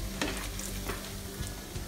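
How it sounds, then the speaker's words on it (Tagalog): Chicken skin chicharon deep frying in oil for a final crisping fry: dense, continuous sizzling and crackling up close, with scattered louder pops and occasional stirring. "Tapos iprituhin ulit natin siya for the final prito."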